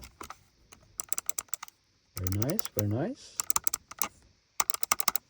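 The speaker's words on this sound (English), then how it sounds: "Anyway, the clicking is very responsive." Crisp clicks of a computer mouse's left and right buttons come in quick bursts and short runs, close and fairly quiet, with a brief spoken comment in the middle.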